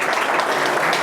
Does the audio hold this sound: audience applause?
yes